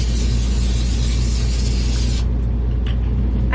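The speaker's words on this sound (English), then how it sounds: "Next, I'm going to spray it with olive oil spray." Olive oil spray hissing steadily from a can onto raw chicken breasts on a baking sheet, one continuous close burst lasting about two seconds, then a quiet room.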